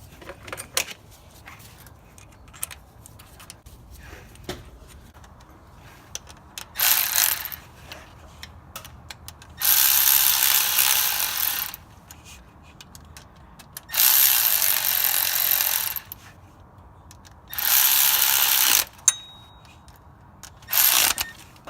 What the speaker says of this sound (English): it's really important that we tighten all these bolts down at the same time